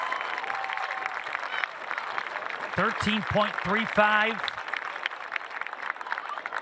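A stadium crowd applauds at a college Division II outdoor track and field championship, a broad wash of clapping and cheering running steadily under a male announcer's voice.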